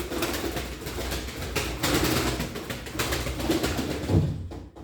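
Pigeons coo softly inside a loft, overlapping throaty calls repeating in a low, continuous murmur with faint background rustle.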